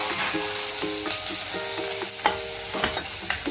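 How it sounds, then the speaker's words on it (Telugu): Dried prawns fry in oil, a continuous close sizzle and crackle with light scraping and stirring taps against the pan, no talking. "ఇప్పుడు ఇందులో ఎండ్రాయిలు వేయించేసుకుందాం."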